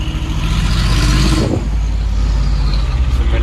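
A supercar engine roars on a Monaco street, a loud continuous low rumble with a swelling rev near the middle, heard close amid street ambience.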